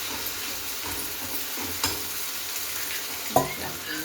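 Besan fries in a pan with coriander, onion, green chili and garlic, a continuous sizzle broken by a few stirring scrapes and soft clicks close by.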